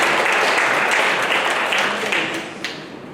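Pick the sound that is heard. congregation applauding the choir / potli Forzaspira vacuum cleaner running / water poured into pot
congregation applauding the choir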